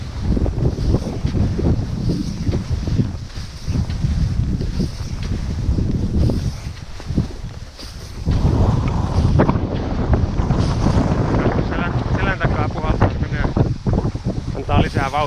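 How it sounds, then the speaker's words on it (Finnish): Steady wind roars and buffets continuously outdoors on the fells of Pallas-Yllästunturi National Park, with gusty rushing noise throughout and voices faintly audible beneath it. "Tuo tuuli."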